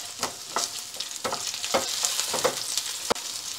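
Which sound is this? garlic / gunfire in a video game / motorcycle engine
garlic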